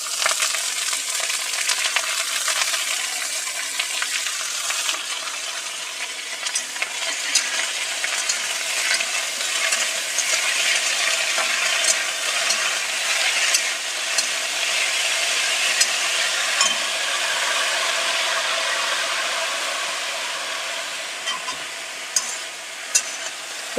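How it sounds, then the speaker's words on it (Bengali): Amaranth greens and chickpeas frying in a pan, with a steady close sizzle and hiss throughout, overlaid by scattered scrapes and clinks of stirring. "বেশিক্ষণ এটা আমি ভাজবো না, অল্প করে একটু নেড়ে নিয়ে তারপর এখানে শাকগুলোকে দিয়ে দিচ্ছি।"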